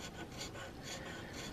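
A steady rasping scrape of a file leveling wood on a carved flintlock muzzleloader stock, repeated strokes in an even rhythm, close and fairly quiet.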